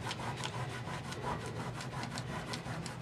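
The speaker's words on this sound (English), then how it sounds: "this is dry enough now that I can take off the resist. So it's a rubbery stuff. You can just rub it off." Fingertips rub dried rubbery resist off a gel plate print, a steady scratchy scrubbing in short repeated strokes, close and continuous without speech.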